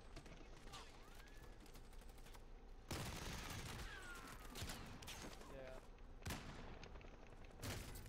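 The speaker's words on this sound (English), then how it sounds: "he shot me through a tent" Gunfire in a war video game, dense bursts of rapid shots with a few single cracks and whizzing sounds, fairly faint and distant, coming in waves over about eight seconds.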